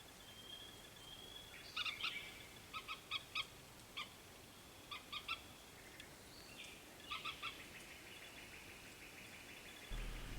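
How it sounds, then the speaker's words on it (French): Birds call at night near a funerary chapel, faint high owl-like chirps in short clustered bursts repeated several times over a quiet background hiss. "Oiseaux. Ouais, les oiseaux."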